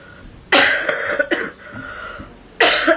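Three bursts of coughing, loud and close, with short gaps between them and no talking.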